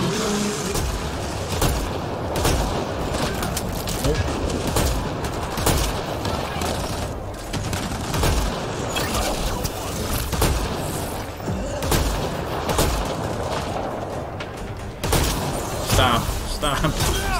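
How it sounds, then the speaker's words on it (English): A grenade blast in Mass Effect Andromeda, buried in dense, continuous combat noise of rumbling booms and gunfire, with a heavier burst near the end. "It's a grenade going in that thing."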